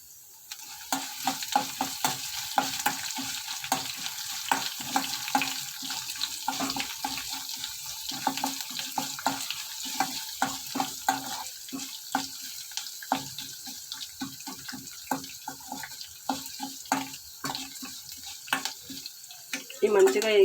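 Coarsely crushed garlic frying in hot oil as a tempering for chutney, a steady close sizzle broken by frequent clinks and scrapes of stirring throughout, with no talking.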